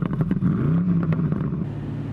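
A BMW 850i convertible with a 4.4 litre V8 petrol engine gives a short rising rev, a deep burbling note heard from the open cabin amid some wind rustle.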